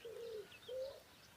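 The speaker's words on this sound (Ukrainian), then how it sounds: "Голуби співають, балакають." Two soft, low pigeon coos in a row, faint against quiet background noise.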